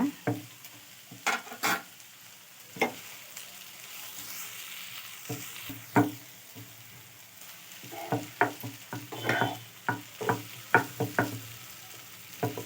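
Paneer bhurji frying in a pan, stirred with a spatula: irregular scraping and clinking strokes, some in quick clusters, over a soft sizzle, with no talking.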